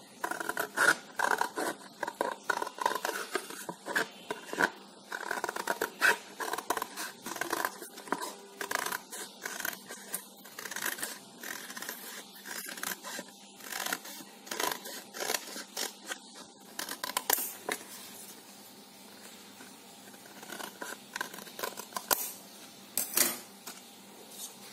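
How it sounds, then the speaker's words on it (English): Scissors snip through paper along a traced outline for a DIY paper palm leaf fan, a long run of close, crisp, irregular cuts and rustles with brief pauses. "I'll just cut out slightly bigger than the outline that I've traced out"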